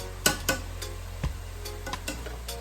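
Garlic stir-frying in a hot pan, with a steady low sizzle and several sharp clinks and scrapes of a utensil stirring it.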